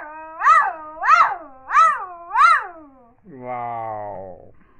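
Two orphaned kittens being raised by a young girl give four evenly spaced, loud, close meows, followed by a longer drawn-out cry.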